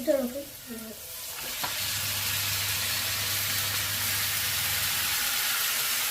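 Cooked chicken drops into a hot pan with a sudden hiss, then a steady loud sizzle continues; a voice speaks briefly at the start.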